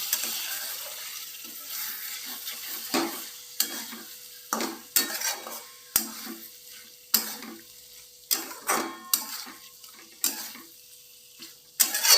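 Boiled chicken pieces for palak chicken being stir-fried in a pan, with a spatula scraping and clinking against the metal in irregular strokes over a soft background sizzle, close and moderately loud, with no voices.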